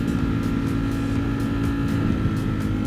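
Ducati Streetfighter motorcycle engine held at full throttle, a steady loud low roar with continuous rumble and no break, no voices over it.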